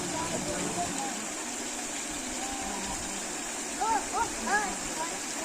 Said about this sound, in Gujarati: આમાં ઓટોમેટિકલી પાણી ચાલુ જ રહે છે